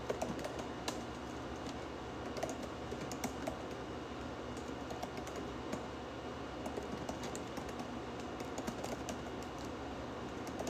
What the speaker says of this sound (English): I don't think y'all like to just sit and watch me type.